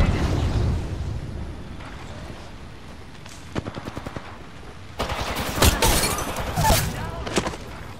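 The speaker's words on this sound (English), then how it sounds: "Thermite grenade." A thermite grenade bursts in an Apex Legends firefight, a sharp crackling blast joined by rapid automatic gunfire and heavy thumps that grow louder in the second half.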